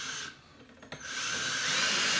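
A power drill drives a 1.5-inch screw into wood while a towel bar is mounted. A brief pause and click give way to a loud, steady whirring drone that builds and holds close by.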